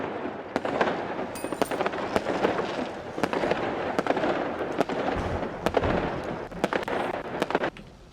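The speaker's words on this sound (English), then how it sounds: "Enjoy some fireworks." Fireworks launching and bursting in the 7 Days to Die video game, a dense run of sharp cracks and pops over a continuous crackling rumble for several seconds, with no talking.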